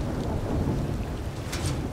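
Rain falls in the video game Collectivité locale Simulator, a dense, steady patter over a deep rumbling wash of thunder, loud and continuous with a brief brighter splash near the end.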